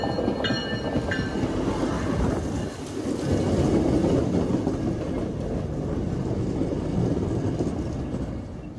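MBTA commuter train passing a station in metro Boston, a loud continuous rumble and rolling roar close by, with a brief dip in the middle, wind buffeting the microphone and no talk.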